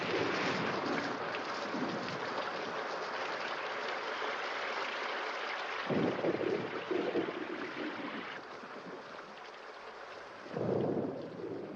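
Steady, heavy rain hisses throughout a cartoon storm scene, with two deep thunder rumbles swelling up near the middle and again near the end. No voices.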